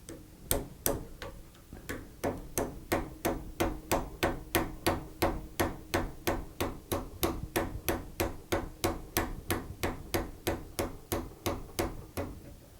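Steady rapid tapping, a small hammer striking metal about twice a second, to drive the top lever spring out of its housing on an L.C. Smith shotgun; crisp, close, evenly paced knocks with no talk.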